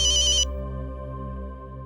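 A phone ringtone chirps loud and close in a quick repeating electronic trill, cutting off after about half a second and leaving a steady low musical hum beneath.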